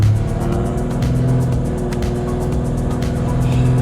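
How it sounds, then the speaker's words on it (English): Tuned Subaru BRZ engine revving hard on a dyno, a loud continuous roar with a steady rhythmic pulse and sharp crackles, close up and with no talking. "This is going to be a fast run on the dyno as well"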